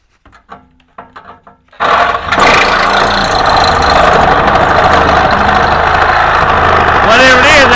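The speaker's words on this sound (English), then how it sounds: "Yep, whatever it is, that sawzall's cutting it." A Sawzall reciprocating saw cuts through material while installing a CoolBot, starting abruptly after a few quiet taps and running loud and steady with a buzzing, vibrating drone to the end.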